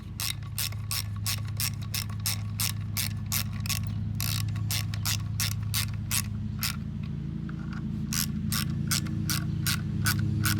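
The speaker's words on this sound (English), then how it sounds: "Let's grab the ratchet and the 10 mil. And we can go ahead and start tightening them down." A ratchet with a 10 mm socket clicks in rapid bursts while tightening bolts on a 2003 Mercury 40 hp outboard during a water pump change, close up over a steady low hum.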